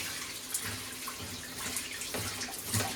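A hot water tap turned on full in a hotel bathroom in France, giving a steady broadband rush of running water with small splashy surges throughout, close and continuous, with no talking.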